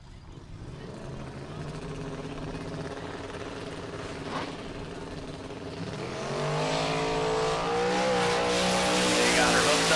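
A turbocharged LS-powered 1992 Ford Mustang launches on a drag strip, its engine rising into a loud, climbing roar with a hint of tire noise, heard at a distance over crowd and track ambience.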